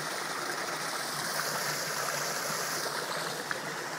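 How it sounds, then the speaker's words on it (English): Creek water flows steadily and close, a continuous broad rushing and trickling with no voices. "grounding myself in the creek water, in the creek dirt that's nice and moist"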